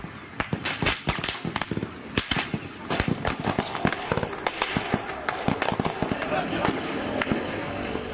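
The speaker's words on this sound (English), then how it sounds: "Gunshots in the streets of Turkey as martial law is declared by a military claiming to be in charge." Gunshots crack in the streets of Turkey during the failed military coup attempt, sharp irregular bangs near and far over a noisy crowd with voices.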